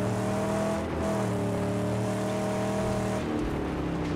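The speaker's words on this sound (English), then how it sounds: "this car coming up here with the crazy loud exhaust" A car with a crazy loud exhaust in the Mad Max video game drones steadily at close range, its deep, layered engine tones holding level before shifting as it revs near the end.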